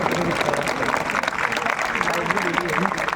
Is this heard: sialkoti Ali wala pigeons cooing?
no